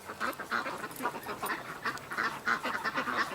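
A single goose on the water gives repeated nasal honks in a fairly regular rhythm, moderately close and clear, with no voices over it.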